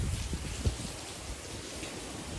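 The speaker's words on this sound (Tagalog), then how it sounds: "Ngayon, umulan na talaga." Heavy rain pouring down in Spain during a typhoon, a steady close hiss of dense rainfall with a few brief low thumps near the start.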